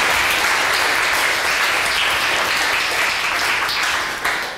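A conference auditorium audience gives a second round of applause, dense sustained clapping that stays strong throughout and tails off slightly at the very end.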